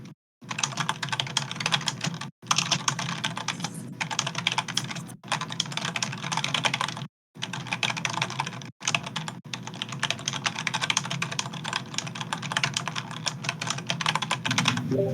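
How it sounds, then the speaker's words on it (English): Clicky computer keyboard being typed on steadily, a dense stream of sharp keystrokes broken by a few short pauses, close to the microphone. "Maureen, is your keyboard from the 80s?"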